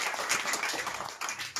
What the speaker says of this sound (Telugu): అందరం గట్టిగా చప్పట్లు కొట్టి